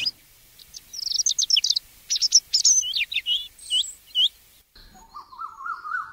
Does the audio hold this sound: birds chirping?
yes